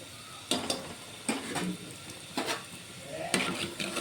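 Fenugreek seeds and asafoetida with dried red chillies frying in hot oil for tomato chutney, a soft sizzle broken by several sharp ladle scrapes and stirs against the pan, close and fairly quiet.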